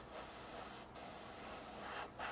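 Airbrush spraying paint onto a 1/48 scale Junkers Ju 88 A-4 model kit, a close, steady hiss in short bursts with two brief pauses between them and no talking.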